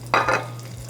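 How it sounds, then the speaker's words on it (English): Hot oil left from frying capers is poured into a salad dressing and gives a brief, close sizzling burst that quickly fades. "while the oil is still hot, add that oil to the dressing"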